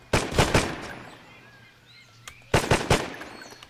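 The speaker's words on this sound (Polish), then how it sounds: "Nadal ktoś próbuje do mnie strzelić?" Enemy gunfire in the shooter game Terrorist Takedown, set in a Colombian forest: two separate bursts of rapid shots, each lasting about half a second, with a quiet gap between them and no voices.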